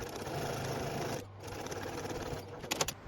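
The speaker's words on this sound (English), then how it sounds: "I'm going to top stitch right through all these layers" Sewing machine top stitching through several fabric layers of a zipper pouch, a steady close motor whir running continuously, briefly pausing near the middle before resuming, with a few light clicks near the end.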